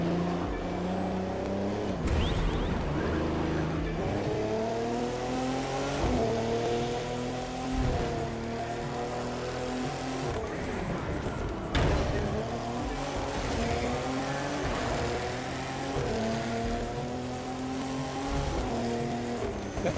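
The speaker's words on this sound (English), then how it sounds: "this car's engine does sound pretty nice" A car engine in the video game The Crew 2 drones continuously, rising and falling in pitch as it revs through gears, loud and close throughout, with no talking.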